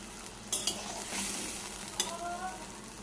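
Poppy seed paste frying in oil as it is stirred, a soft sizzle with a few sharp spoon-against-pan clinks and scrapes, close and fairly quiet.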